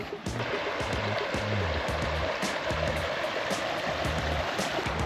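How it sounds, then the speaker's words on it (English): Virgin River flowing near a side trail, a steady, fairly loud rush of water heard up close, with faint low tonal sounds and light clicks mixed into the wash and no talking. "The Virgin River with all its cyanobacteria."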